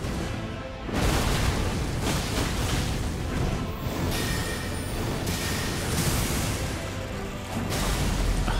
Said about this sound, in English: Oh, I forgot about the second explosion.